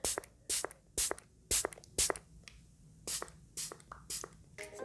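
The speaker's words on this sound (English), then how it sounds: "I just spray it on there and I just put it directly on my skin" A cosmetic spray bottle spritzes product onto a cotton round in a series of short, sharp hissing bursts, close and fairly loud, with quiet handling sounds between them.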